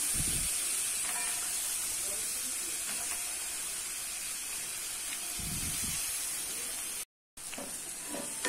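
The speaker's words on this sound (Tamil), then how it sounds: "இந்த காய் நல்லா வதக்கி விடலாம்" Mixed vegetables such as carrot and raw plantain sautéing in oil, a continuous airy hiss and sizzle with occasional faint clinks, briefly cutting out near the end.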